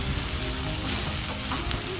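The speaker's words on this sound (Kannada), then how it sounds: "ಈ ಒಗ್ಗರಣೆ ಹಾಕಿ ಕಲಿಸ್ಬೇಕು" Washed poha (flattened rice) gets mixed into a freshly fried tempering in a hot pan, giving a steady, soft sizzle and crackle with faint stirring and no voices.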